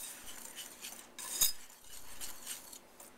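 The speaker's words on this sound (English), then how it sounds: "We're going to whisk that together." Quiet metal whisk stirring dry ingredients with cinnamon, ginger, coriander and allspice in a bowl, with soft scraping and scattered light clinks, one sharper clink midway, no voices.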